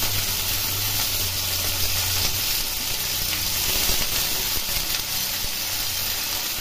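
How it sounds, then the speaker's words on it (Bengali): Potatoes and eggplant with green chilies fry in hot oil in a pan, giving a continuous, fairly loud hissing sizzle that holds steady throughout without speech. "এগুলি একটু ভালো করে ভেজে নেব।"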